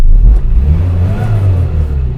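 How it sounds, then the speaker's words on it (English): Engine of a 1971 Morris 1100 Mk2 classic car idling smoothly, a low, even hum close by after a brief rise at the start, with no talking. "it just purrs the engine"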